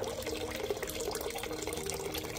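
Steady running water from a tap while working on a small apartment pond, a continuous splashing rush that stays even throughout with no talking.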